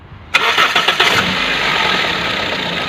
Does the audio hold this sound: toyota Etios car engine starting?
yes